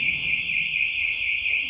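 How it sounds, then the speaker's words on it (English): Crickets chirp in a steady, continuous high trill during a Tuvan shamanic divination session, a loud unbroken insect drone with faint low rumble beneath and no speech. "We've been besieged by crickets."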